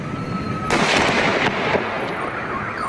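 A Goodbye Philippines firecracker set off in a QCPD bomb squad test goes off with a sudden loud blast, followed by crackling bursts and a rumbling tail that lingers for a couple of seconds.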